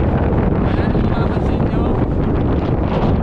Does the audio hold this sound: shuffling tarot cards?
no